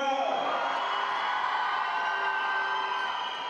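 Crowd cheering and whooping fills a women's U20 national cup final basketball game, a broad, steady roar throughout, with a commentator talking over it.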